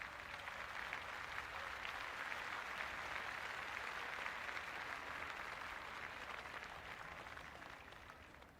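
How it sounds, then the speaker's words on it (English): A stadium crowd roars steadily in the Cricket 26 video game, a broad, dense wash of cheering and applause that holds at an even level throughout and fades slightly toward the end, with no voices standing out. "It's evident and ever so audible that the crowd is at near bursting point at today's play."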